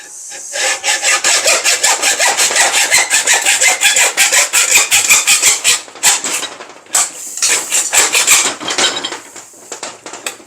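A hand saw cuts into an antique fire extinguisher clamped in a pipe vise that is clamped to a table, loud and close, with rapid rhythmic rasping strokes that stutter and slow toward the end.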